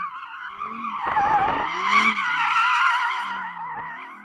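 Tyres on a 620hp Audi R8 GT squeal hard as they are spun up to warm before a drag race, a loud sustained screech with engine roar underneath, close and continuous.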